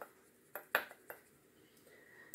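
Kitchen utensils being cleaned up and put away after making Kabyle crêpes: a few sparse metallic clinks and clatters of pans and cutlery, close and clear, with a louder clang at the end.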